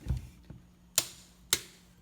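A torque wrench set to 13 pounds clicks as it reaches torque on a brake caliper bolt, giving a few sharp, quiet metallic clicks about half a second apart in a still room.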